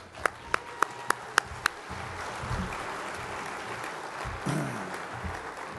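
Applause at a formal award dinner for a musician: a handful of sharp, separate claps, then a steady crowd wash of clapping that swells slightly near the end.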